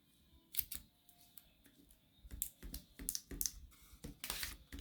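Close, quiet snips and crisp clicks as a piece is cut off a small paper composition notebook, irregular cuts bunching toward the end with light paper handling between them.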